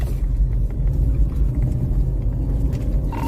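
A stolen car speeds away from police in a high-speed chase, its engine and tyres making a loud, continuous road rumble close by without letting up.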